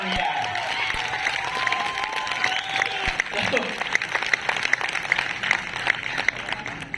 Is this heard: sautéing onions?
no